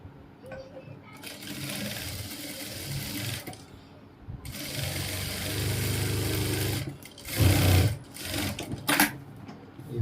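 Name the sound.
sewing machine stitching trousers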